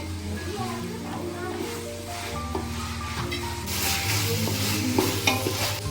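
Chicken biryani masala with green chili, ginger and crushed garlic sizzles and is stirred in a pan, a steady frying hiss with scraping strokes under talking and some background tones.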